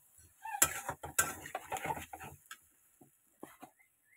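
Stirring in a cooking pot while something is being sautéed, with sharp metallic scrapes and clinks of a spoon against the pan in an irregular burst, then quieter scattered taps.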